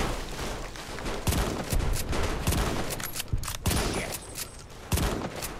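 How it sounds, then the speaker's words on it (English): Gunfire and grenade blasts in the video game Fallout: New Vegas rattle out as rapid irregular volleys with several heavier bursts, loud and continuous, no talk. "Oh my God, with the grenades."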